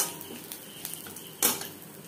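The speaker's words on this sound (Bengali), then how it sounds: "এবার ভেজে নেব নারকেল।" Dried coconut frying in oil in a pan, a faint soft sizzle with light clinks of a utensil and one sharper scrape partway through.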